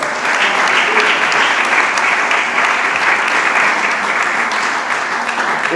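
A church congregation claps together in steady, dense applause, loud and continuous throughout with no pauses.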